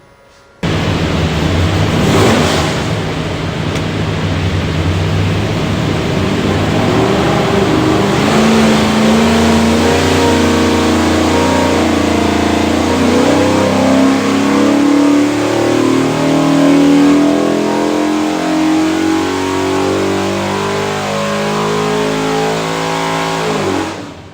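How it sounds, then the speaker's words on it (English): Ford 347 stroker V8 with a carburetor, built for a 1966 Mustang, runs up on an engine dyno: loud, steady engine roar climbing in pitch over about twenty seconds through a full pull, then cutting off abruptly. "We'll go in there and make a run. See what she does."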